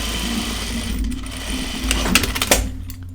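A sewing machine runs steadily at close range as it stitches a half-inch shirt collar seam, with a few sharp clicks and knocks mixed into the continuous whirring.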